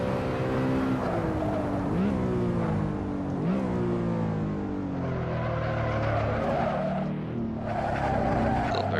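BMW E92 M3 lapping Monza in Assetto Corsa, engine note rising and falling through gear changes with tires skidding and squealing, loud and continuous throughout.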